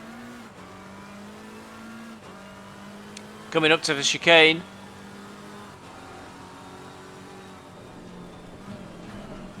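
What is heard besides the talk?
race cars driving in Assetto Corsa Competizione video game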